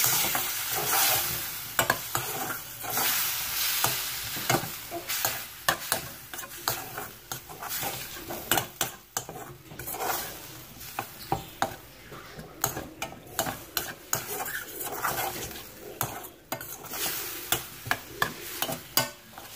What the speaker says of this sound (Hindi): अब हम इसमें ये सॉस डाल देंगे जो हमने बनाई थी।